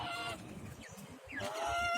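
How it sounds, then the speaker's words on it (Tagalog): Pet chickens clucking and calling near the mic, with a couple of higher bird calls rising over a steady, noisy outdoor background; pet ducks are kept close by. "dalawa na lang po itong manok ko"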